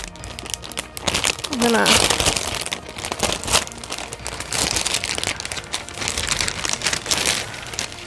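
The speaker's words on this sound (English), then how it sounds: "these loud plastic bags get me every time." Loud plastic bags crinkle and rustle in bursts while a Patreon reward package is unboxed, close and crackling, with a person talking over the handling.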